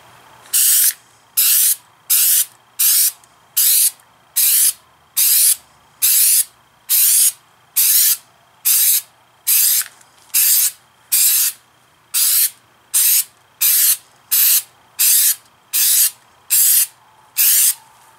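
Truck bed liner coating is sprayed onto a boat keel in about twenty short, loud, evenly spaced hissing bursts separated by brief pauses, with no voices.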